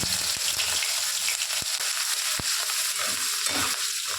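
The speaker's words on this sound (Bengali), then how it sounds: "শুকনো লঙ্কা, তেজপাতা আর পাঁচফোড়ন। এটা আমি তেলের উপরে দিয়ে দেব।" Dry red chilli, bay leaf and panch phoron spices tossed into hot oil crackle and sizzle in a pan, a dense frying hiss broken by a few sharp taps and pops, close and moderately loud.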